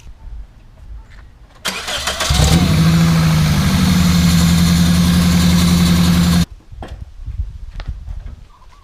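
A 2003 Toyota Corolla engine cranks briefly, catches and settles into a steady, loud idle with a droning hum, then cuts off abruptly, leaving quiet background sounds.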